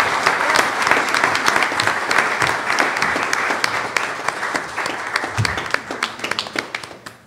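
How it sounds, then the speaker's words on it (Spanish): Audience at a molecular genealogy panel gives loud, sustained applause for a doctor being introduced, thinning toward the end into distinct individual claps. "Por favor, un aplauso para la doctora Mónica Marcela Montemayor"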